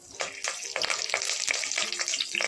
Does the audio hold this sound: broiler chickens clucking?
no